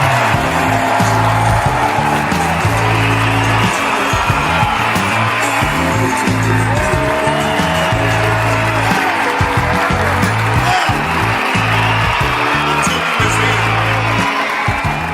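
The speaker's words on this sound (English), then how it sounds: "give a nice warm round of applause to my good brother, Dr. Boyce Watkins" Audience applause welcoming Dr. Boyce Watkins onstage at a reparations movement talk: steady, dense clapping from a large crowd with scattered cheers, loud and continuous throughout.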